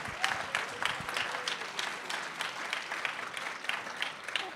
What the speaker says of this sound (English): Another round of applause, please, for our esteemed author